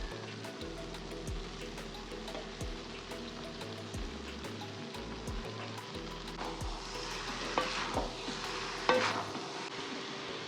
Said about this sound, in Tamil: இந்த ரைஸை இதோட கலந்துடலாம்.